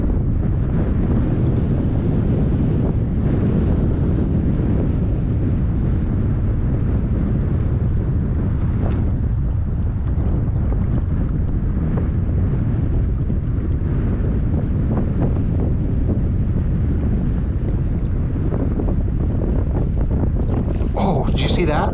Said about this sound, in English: Wind's starting to pick up, so sorry for the noise.